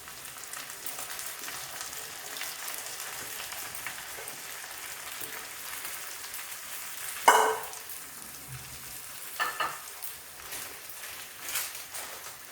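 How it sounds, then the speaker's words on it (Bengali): Sago pearls and other ingredients fry softly in a wok, giving a faint, steady sizzle broken by a few sharper scrapes and clacks of a spatula stirring. "এই উপকরণগুলোকে আবার একটু খুন্তি দিয়ে নাড়াচাড়া করে এর মধ্যে আমি সাবুগুলোকে দিয়ে দেবো"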